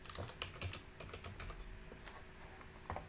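A name typed on a computer keyboard: quiet, brisk runs of key clicks with short pauses, no voice.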